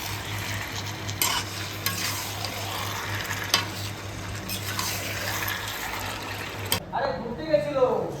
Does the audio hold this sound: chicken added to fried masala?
yes